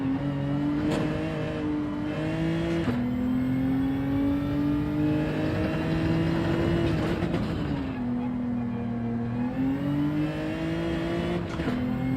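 Race car engine in Gran Turismo 7 at the Nurburgring, holding high revs in third gear with a steady loud droning pitch that dips on shifts and climbs again, continuous throughout.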